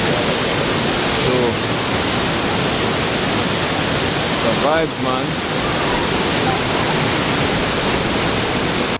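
Reggae Falls in Jamaica roars as a constant, loud broadband rush of falling water, with someone speaking briefly over it midway.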